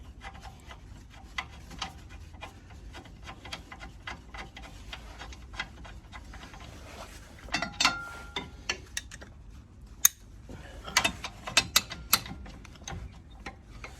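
A large nut is ratcheted tight while fitting Eibach Pro Kit lowering springs to the rear suspension of a BMW 1 Series E82 Coupe: steady close clicking and rubbing metal, with a few louder clunks toward the end, no speech.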